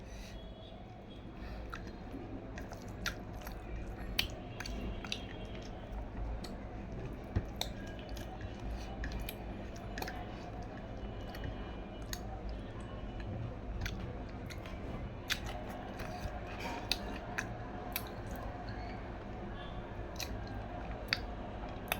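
Someone eating khichuri at a night meal, giving close, soft, wet chewing and squishing with occasional small clicks and crunches, steady over a quiet background with no clear talk.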